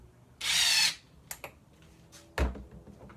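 A power drill with a long bit drives a screw while a Muskoka chair is assembled, giving one loud half-second burst of whirring, followed by a few faint clicks and a sharp knock.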